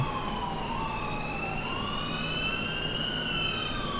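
Wailing police sirens in the LCPD:FR police game mod rise and fall continuously, several overlapping tones at a moderate distance over a low rumbling background.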